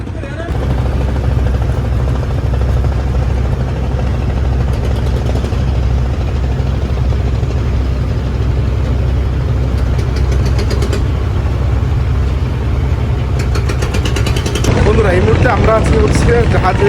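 Engines of small boats and passenger launches at a busy river terminal in Dhaka make a loud, steady low drone and rumble that runs unbroken throughout, with a brief rougher burst near the end.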